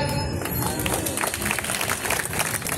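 An audience claps for Brigadier Deepak Gaur at a public gathering, dense, steady applause from a sizeable crowd filling the whole stretch with no pauses.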